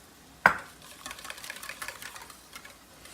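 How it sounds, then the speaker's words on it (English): Eggs and sugar being whisked together in a bowl for a traditional dressing, a sharp clink at the start followed by quiet, rapid rhythmic tapping and scraping close by, with no talk. "We're gonna kind of whisk those together, get them all nice lemony yellow color."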